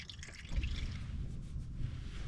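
Used engine oil drains from a 2024 Chevrolet Silverado 2500HD with a 6.6 gas L8T engine, a steady low gurgling trickle with soft splashes, close and continuous.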